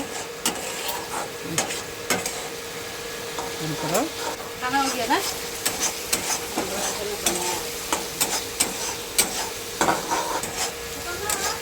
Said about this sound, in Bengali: এটা আমি এখন খুব ভালো করে একদম তেল ছাড়া অবধি ভেজে নেব